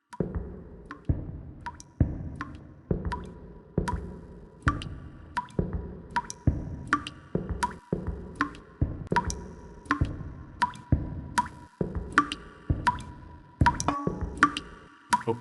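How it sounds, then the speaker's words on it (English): A leaking pipe in the blind-accessible audio game Blindscape drips steadily, with regular crisp plinking drops roughly every half second to second over a continuous low watery background, with no talk. "There's a pipe that's always leaking right above it. I guess I'll just have to walk towards the dripping sound."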